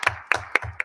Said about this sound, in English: We can clap for our audit.